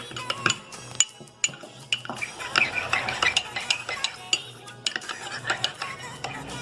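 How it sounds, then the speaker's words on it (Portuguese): A spoon stirs colorless gelatin dissolved in water inside a container, giving close, irregular clinks and scrapes against the sides with soft swishing between them. "Mexe bem."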